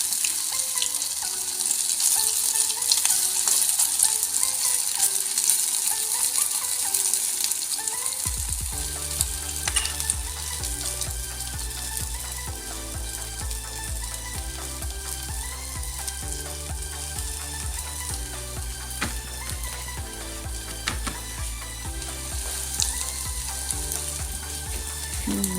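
Tel pitha rice cakes fry in oil in a wok over a low gas flame, a continuous moderate sizzle that carries on under steady tonal background music for most of the stretch.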